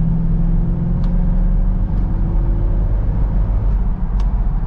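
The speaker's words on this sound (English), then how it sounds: "sound clip while driving so you guys can hear the stock exhaust" Stock exhaust of a 2000 C5 Corvette accelerating gently while driving, a steady, fairly quiet low engine rumble with road noise, no voices.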